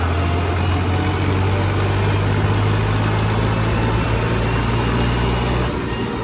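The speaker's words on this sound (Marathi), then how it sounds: "ट्रॅक्टर चालू केला." Farmtrack 60 tractor engine running after being started in top gear, a loud, steady low-pitched diesel drone that holds constant for several seconds before dipping slightly at the end.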